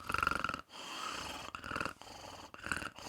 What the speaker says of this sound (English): I like that snoring technique.